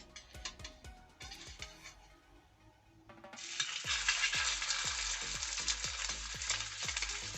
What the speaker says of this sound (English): Our pan is already sizzling hot.